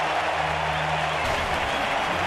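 Crowd at Dodger Stadium during an NLDS playoff baseball game against the St. Louis Cardinals, cheering and applauding loudly and steadily after a strikeout, with a broadcaster's voice partly heard underneath.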